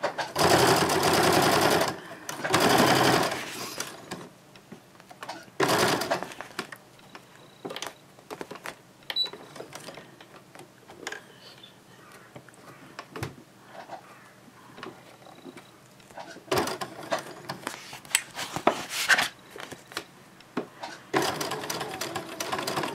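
A sewing machine stitches a diaper changing bag in fast, loud whirring runs that start and stop between pauses, with softer clicks and handling of fabric in the gaps.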